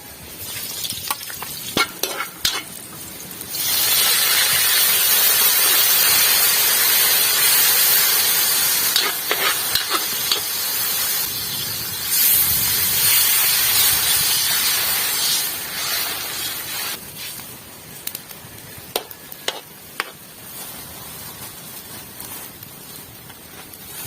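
Onion and garlic sautéing in hot oil in a frying pan, a loud steady sizzle that swells and eases over about twenty seconds, with light stirring clatter and scattered pops, no talking.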